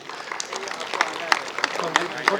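Scattered audience clapping at a Kathak dance event as a performer is honored on stage, uneven sharp claps with talk running through.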